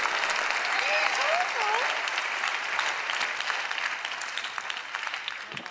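Studio audience applause at a televised magic show, a loud, sustained wash of clapping from a large crowd that holds steady and thins a little near the end, with faint whistles or voices mixed in.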